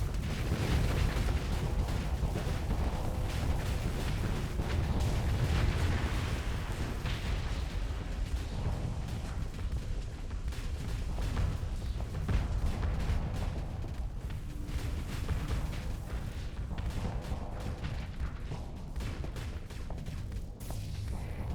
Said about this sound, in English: Let's switch to automatic plasma firing.